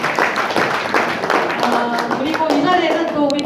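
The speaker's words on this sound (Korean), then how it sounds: "박수 부탁드립니다" Scattered clapping from a crowd rises briefly, a short round of applause mixed with voices nearby.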